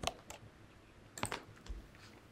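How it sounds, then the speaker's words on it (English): Keys clacking on a computer keyboard as a company name is entered into a Salesforce search, a few quiet scattered keystroke bursts at close range with no talk. "Type in the company's name"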